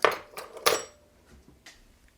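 Pretzel-crumb mixture being stirred in a bowl for a holiday recipe, with a few clinking utensil strikes against the dish early on, then quieter faint scraping, close and brief with no talking.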